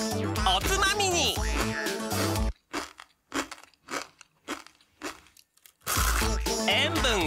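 Dry Nissin Chicken Ramen noodles bitten and crunched straight from the block, several sharp crisp crunches in a quiet middle stretch, with music and voices before and after.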